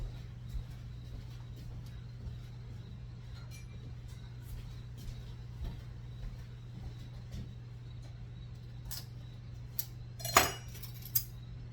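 A knife is picked up in a home kitchen where cinnamon raisin English muffins are being made; a few light metallic taps lead to a cluster of sharp cutlery clinks near the end, over a steady low hum.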